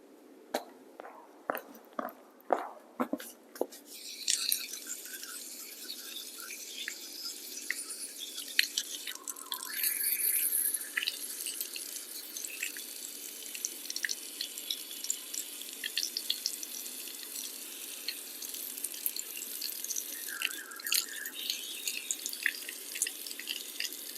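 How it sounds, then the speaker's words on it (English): Euphorbia cuttings are rinsed under running water to wash off sap, with a few close drips and splashes at first, then a steady faint stream of tap water with small clinks and dribbles throughout. "You can see how I'm going to place them underwater. Just wash this sap off."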